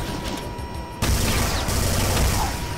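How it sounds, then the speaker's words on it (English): Rapid chain gun fire in Brutal Doom, a loud, dense burst of gunfire that kicks in about a second into the clip and holds steady to the end over game background noise. "don't underestimate the chain gun"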